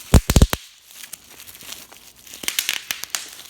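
Packing tape on a Smok T-Storm vape kit box is peeled and torn away: a loud cluster of sharp ripping crackles at the start, then quieter intermittent crinkling and tearing pulls.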